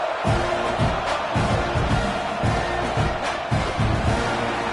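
Football stadium crowd at a Georgia vs Texas A&M game waits before a kickoff, a continuous distant roar and murmur with soft swells, no distinct cheering bursts.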